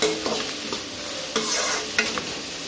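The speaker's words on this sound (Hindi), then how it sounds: "अच्छी तरह से मिक्स करके थोड़ा सा इसको रोस्ट कर लेना है, सौते कर लेना है" Green peas, carrot and capsicum stirred and sautéed in a pan over high flame, with steady sizzling and several sharp scrapes of the spoon against the pan, close and clear, with no talking.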